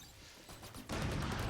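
A quick burst of rapid gunfire erupts in a Valorant esports match, loud and sudden after a quieter stretch of game ambience.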